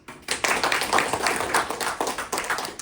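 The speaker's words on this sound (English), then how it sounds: "Round of applause" Brief round of applause in a classroom audience, a ragged burst of hand claps that starts abruptly, stays fairly loud and uneven for a couple of seconds, then thins out.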